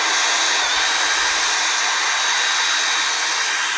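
Sanding a scratch in BMW paint with 800 grit, a loud steady hiss that holds constant and close throughout, with no voices.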